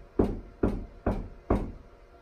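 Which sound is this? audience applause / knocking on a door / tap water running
knocking on a door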